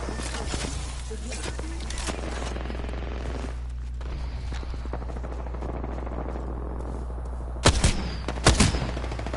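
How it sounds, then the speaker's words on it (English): Gunfire in the Apex Legends video game, dense rapid shots over a heavy low rumble, with sharp louder bursts near the end and talk mixed in. "That's the wrong guy you're shooting at."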